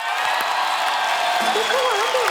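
Studio audience applauding and cheering to welcome a rapper onto a comedy show stage, a steady dense wash of clapping with whoops, a voice rising over it near the end.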